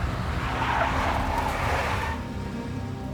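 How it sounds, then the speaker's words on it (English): A big black Mercedes skidding in the video game Max Payne, a loud close tire squeal over engine roar lasting about two seconds before fading into a lower rumble. "A big black Mercedes."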